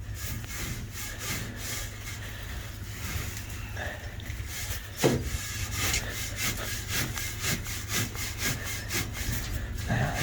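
A broom scrapes and pushes inoculant down inside a planter seed hopper, a steady rhythmic rubbing repeated over and over, heard close against the constant low drone of a Fendt 1050 tractor running at night.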